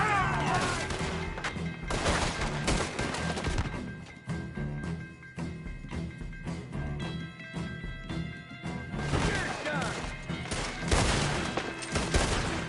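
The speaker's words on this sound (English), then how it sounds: "Let's clear these and make a run for it! Shoot, Arthur!" Sustained gunfire in the video game Red Dead Redemption 2, with dense overlapping shots and bursts that form a loud, continuous fusillade, with musical score and brief voices mixed in beneath.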